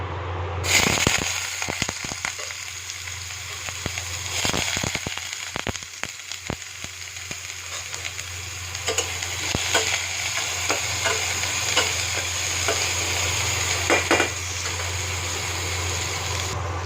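Chopped onion with a bay leaf fries loudly in hot mustard oil, a dense continuous sizzle broken by sharp crackles and pops and a few utensil knocks near the start.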